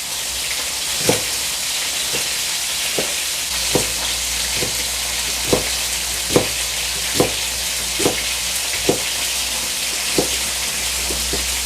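Tofu skin stir-frying in a pan, a steady bright sizzle punctuated by a regular series of sharp utensil taps, close and with no speech.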